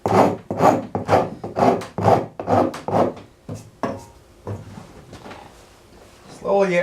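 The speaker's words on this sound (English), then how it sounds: "So I'm going to have to rasp that down and try to kind of radius that edge" A wood rasp scrapes along the edge of a wooden axe handle during an axe restoration, rounding it over in rapid, regular rasping strokes, loud and close, that slow and fade toward the end.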